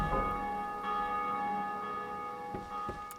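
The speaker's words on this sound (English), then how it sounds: "Gotta ring that bell." A bell rung in the video game Dark Souls II, one resonant clang followed by a long humming ring that fades slowly, with a few faint knocks near the end.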